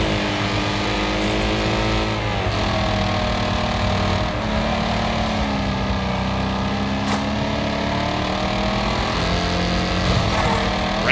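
A race car engine in Wreckfest drones and revs continuously on the Wrecknado track, loud and close, with pitch rising and falling through gear changes and a few sharp clunks of contact.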